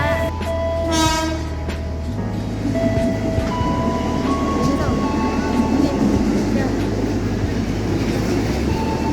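A train at Klender station in Jakarta: a loud horn blast near the start, then rumbling wheels and rolling carriages with a steady mechanical drone and some tonal squeal, close and fairly loud, with no talking.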